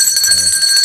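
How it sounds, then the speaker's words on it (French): A single bell stroke rings out during a Haitian radio broadcast announcement, its bright, sustained partials holding steadily and loudly through the whole moment with no talking over it. "Yon coup cloche"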